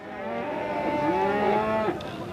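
A local deshi bull lets out one long, loud, drawn-out moo close by, lasting about two seconds, at the Gasline cattle market in Ullapara.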